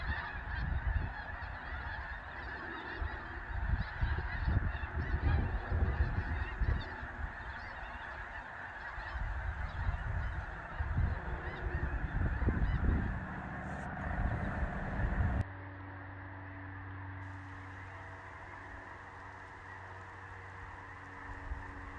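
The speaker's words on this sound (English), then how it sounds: "Just a couple more geese coming in." Geese honk repeatedly in a noisy chorus as they come in to land, loud and close at first, before the honking drops away, leaving a quieter low rumble.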